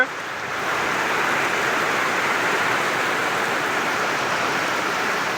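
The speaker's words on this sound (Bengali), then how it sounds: "বৃষ্টির কি তাণ্ডব দেখুন" Heavy rain pours steadily in a windy rainstorm over maize fields, a dense continuous hiss that swells in after a brief quieter opening and stays loud throughout.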